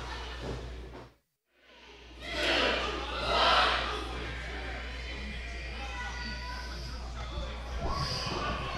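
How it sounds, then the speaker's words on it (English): Wrestling crowd in an arena chanting together during a timed entrance match, a swell of many voices that rises, dips and surges again over a steady low hum, the chant blurred rather than crisp. "You could hear the crowd counting down."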